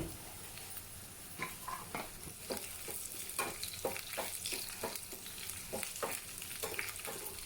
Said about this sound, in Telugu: కాస్త కలర్ చేంజ్ అయ్యేంత వరకు వేపుకోవాలి